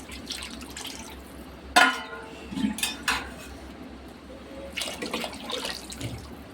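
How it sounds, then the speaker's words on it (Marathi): Water is poured from a glass into a pot of rice for chicken pulao, a close, steady splashing stream with a few sharper splashes and no talk. "आपण तांदूळनुसार इथं पाणी टाकतोय।"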